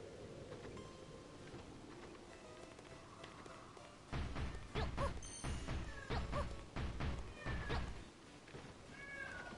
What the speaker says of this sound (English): Cat is being very loud.